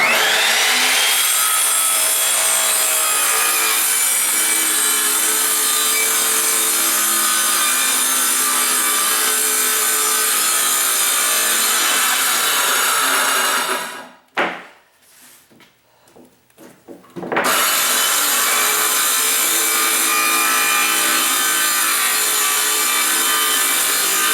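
Skil circular saw ripping through a wooden board, a loud steady whining cut for about fourteen seconds, a brief pause with faint rattles, then another long sustained cut, no talk.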